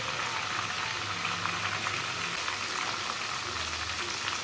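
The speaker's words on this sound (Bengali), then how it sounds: "এখন এটা আমি ভালো করে লাড়াচাড়া দেব।" Chalta (elephant apple) pickle being stirred in a pan as it cooks, giving a steady, dense sizzle and bubbling that runs unbroken throughout at moderate volume, with no voices.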